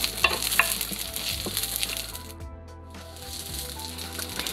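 Bok choy stems sautéing with golden-browned garlic in a pan, giving a steady close sizzle with stirring scrapes and a few clinks, easing briefly midway before the frying noise returns.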